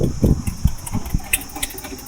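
A 30-horsepower tractor engine idles nearby with a low, uneven chugging and light rattling knocks, steady and fairly loud, no talking.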